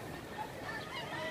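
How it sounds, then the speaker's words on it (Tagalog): Geese or other fowl honk and call without a break from a backyard pen as the birds drop down into it. The calling is close and fairly loud. "yung mga ibon na bumaba sa loob"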